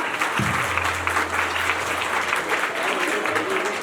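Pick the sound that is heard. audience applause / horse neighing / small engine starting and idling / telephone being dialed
audience applause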